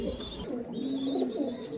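Imported pigeons cooing, a soft low warbling coo from nearby birds, one rolling call followed by another over a brief stretch, with faint higher chirps above.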